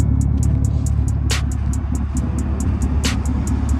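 A tuned Chevrolet Camaro SS slides through snow, its engine giving a steady low rumble close by, with two sharp bursts of hiss partway through and a faint rapid ticking running throughout.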